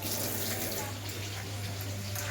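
Tap water runs steadily into a kitchen sink as raw chicken is rinsed, a continuous close splashing wash with a low hum beneath it.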